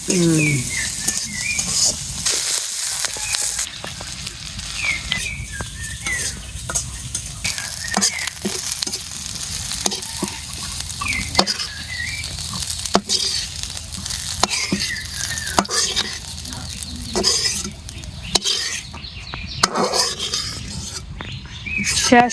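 Onions, green chillies and potatoes fry in a pan with a continuous crackling sizzle and frequent scraping stirs up close, while faint voices come through now and then.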